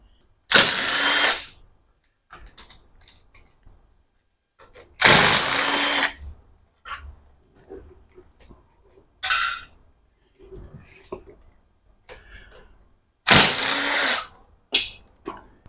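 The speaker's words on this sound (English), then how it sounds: "we are going to put an Allen head on that, on my impact gun, and we are going to spin these out" An impact gun fitted with an Allen head spins bolts out of a DS90 two-stroke engine during a rebuild, giving four loud, short bursts spread apart by quiet gaps with small clinks of metal parts between them.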